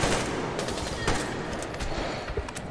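Rapid bursts of automatic gunfire in the Metro Exodus video game, loud and close, several quick shots in irregular rhythm with no talking.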